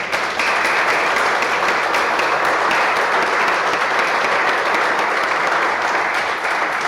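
A church congregation breaks into steady, dense applause that fills the space at an even loudness for several seconds, many hands clapping at once with no break.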